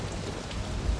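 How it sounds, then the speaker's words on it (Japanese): Heavy rain pours in the Saints Row video game, a dense steady broadband hiss with a low rumble underneath, continuous and loud with no talk. "しかしすごい雨だね大荒れじゃないの、めちゃくちゃ雨降ってる"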